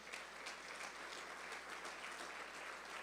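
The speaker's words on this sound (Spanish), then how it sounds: "Dale un fuerte aplauso al Señor." A church congregation gives a loud round of applause to the Lord during a sermon. The clapping is steady and continuous, heard faint and distant, with no talk over it.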